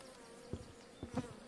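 Honeybees buzz faintly and steadily around an open hive in spring, with a few brief louder bursts as individual bees pass close.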